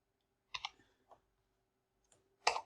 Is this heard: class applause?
no